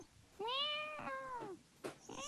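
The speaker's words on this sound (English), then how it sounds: "The giant walks a little further until he hears some meowing in the distance." A cat lets out a long, drawn-out meow nearby, followed by a shorter, softer mew. No one speaks.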